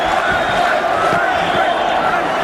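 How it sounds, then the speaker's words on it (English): A boxing arena crowd at a Mike Tyson versus James Tillis fight keeps up a dense, continuous roar of shouting and yelling, steady and loud throughout. "Now the crowd begins to implore Tyson"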